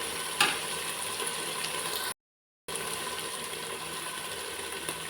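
Chicken sukka frying in oil in a pan, a dense steady sizzle with light scraping clicks, broken by a brief cut to silence midway.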